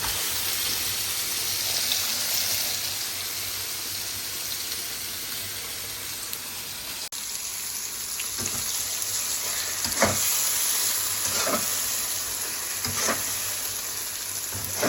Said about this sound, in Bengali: মশলার সাথে গোস্তগুলো একসাথে নাইড়া নিব।